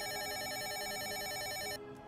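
A phone rings in the horror dating game Sucker for Love: Crush Landing, its steady electronic trill repeating loud and clear for nearly two seconds before it cuts off and leaves a faint hiss behind.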